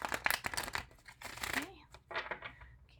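Tarot cards being shuffled by hand give off crisp, papery riffling and crinkling bursts in irregular clusters, close up, with brief pauses between runs.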